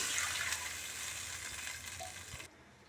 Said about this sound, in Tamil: ரெண்டு கப் தண்ணி ஊற்றுறேன்